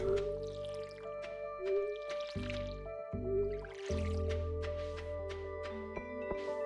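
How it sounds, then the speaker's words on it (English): Watering crops in the Stardew Valley farming game, soft droplet and splash effects layered over steady background music, repeating in quick bursts without speech. "I am actually going to water this again"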